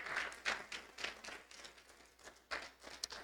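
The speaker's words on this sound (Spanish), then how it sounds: "aplauso" Scattered clapping from a church congregation, a few bursts of hand claps at moderate distance, fairly faint and brief.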